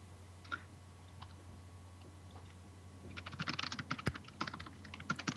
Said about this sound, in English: I can hear lots of frenetic typing in the background